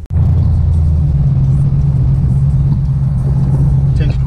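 A truck with a factory electric fan conversion rumbles loudly and steadily up close as it sets off to drive, the engine drone filling the cabin.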